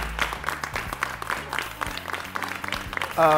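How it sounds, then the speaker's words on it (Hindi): Studio audience clapping on a late-night talk show for round winner Saud, moderately loud and a little uneven, with a musical sting coming in at the end. "सऊद के लिए भरपूर तालियां"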